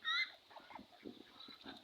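Mulard ducks give a loud, honking call at the start, followed by softer scattered calls and quacks around a farmyard, heard fairly faint and close.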